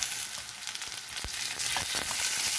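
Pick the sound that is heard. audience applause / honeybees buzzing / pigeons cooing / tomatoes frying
tomatoes frying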